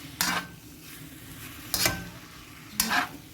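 Chicken pieces with minced garlic and garlic granules fry in a pan, a soft background sizzle broken by three sharp stirring scrapes spaced about a second apart, close by and with no talking.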